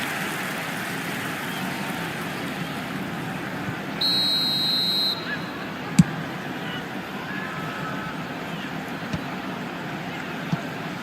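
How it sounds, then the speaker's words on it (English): A referee's whistle blows for offside in an eFootball match: one steady shrill tone lasting about a second over constant crowd noise, followed by a few faint clicks. "And the whistle's gone, presumably for offside."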